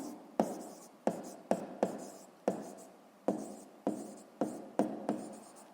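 A pen taps and scratches out a sixth-grade maths solution on paper, close and quiet, with about ten crisp strokes landing in an uneven rhythm, each followed by a brief scratching trail.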